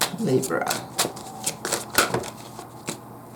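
Tarot cards are shuffled by hand in quick riffling bursts, close and crisp, with a voice speaking over part of the shuffling.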